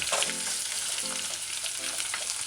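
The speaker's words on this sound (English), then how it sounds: "Turn the stove gauge on 4, medium low, and saute the onions." Onions sautéing in a pan on a stove at medium-low heat give a steady close sizzle, with a few soft stirring scrapes rising over the constant frying hiss.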